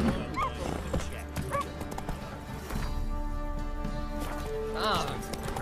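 Horse hooves clip-clopping with a couple of whinnies, a mount in The Witcher 3, moderately loud over game music and steady ambience, with voices talking nearby.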